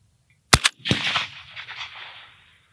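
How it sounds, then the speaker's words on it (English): A shot from a PSL or SVD-type rifle fired at a 100-yard target cracks sharply with a quick echo, followed by a second loud report whose rumbling echo slowly fades outdoors. "that shot went to the right side"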